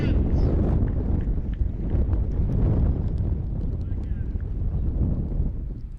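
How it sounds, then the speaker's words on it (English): Wind buffeting the microphone at an outdoor recurve archery final in Plovdiv, a steady low rumble and roar throughout, with a commentator talking over it. "I could just hear the wind."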